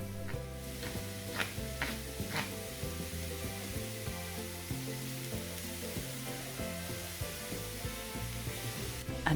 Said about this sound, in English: Give them a good stir around in the butter.